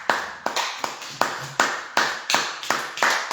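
A congregation claps in rhythm during a church service, with about nine sharp, steady beats in roughly three seconds. The clapping is close and loud and carries on without voices.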